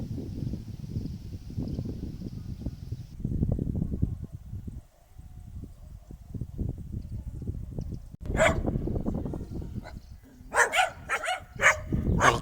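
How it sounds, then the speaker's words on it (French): Dogs barking outdoors in a Gagauzian village, the barks fairly distant and mixed with steady rumbling background noise and a few sharper bursts toward the end. "je pense que vous entendez les chiens"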